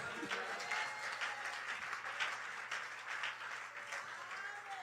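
A church congregation applauds the Lord during a French-language sermon, a dense, steady wash of many hands clapping that carries evenly through the whole stretch with no voices breaking through.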